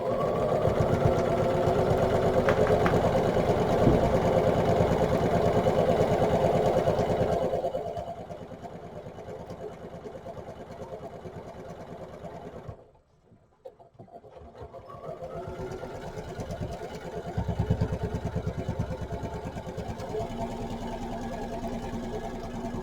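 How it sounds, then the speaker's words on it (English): Sewing machine stitching a quarter-inch seam on a pieced Christmas tree quilt, a loud steady close hum that drops to a softer run, stops briefly in near silence, then resumes. "So now I'm going to stitch this with probably a 1/4 inch seam."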